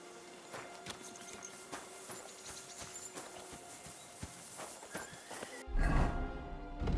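Horse hooves clop in a quick, uneven rhythm with occasional snorts in the video game Kingdom Come: Deliverance II, fairly faint, before a louder rumble of movement near the end.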